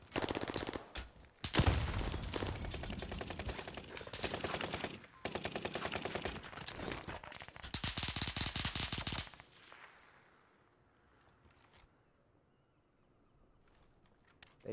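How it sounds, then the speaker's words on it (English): Sustained bursts of automatic gunfire in the video game Call of Duty Warzone, loud and rapid with brief gaps, stopping abruptly partway through and leaving faint scattered sounds. "They shooting at us from the other crib."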